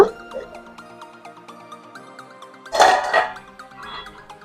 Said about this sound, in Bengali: এখন আমি ঢাকাটা খুলে নেব।